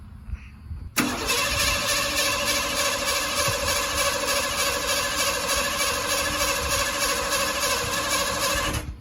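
A 1984 Ford F150 that sat unused for over five years cranks and fires up after a brief quiet moment, then settles into a steady, loud, buzzing engine run that continues without pause.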